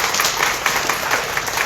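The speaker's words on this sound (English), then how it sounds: "They need to get a round of applause for that." A brief round of applause at a school district board meeting, a short burst of scattered clapping from a small crowd.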